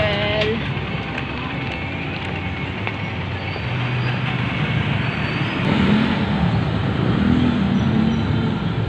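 A motor tricycle engine rumbles steadily from inside the ride, a close, constant roar with road noise that swells slightly toward the end.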